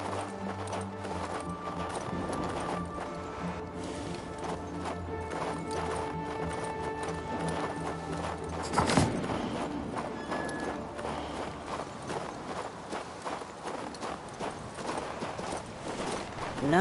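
Horse hooves clip-clopping in the video game King's Bounty II, a steady rhythmic walking beat over game background music, with one brief louder crash partway through.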